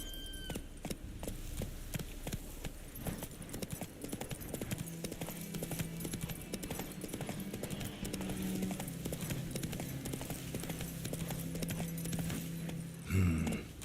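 Rhythmic clip-clop of horse hooves on a hard surface in the video game The Witcher 3, steady and close, over a low droning music bed, with a brief louder bump near the end.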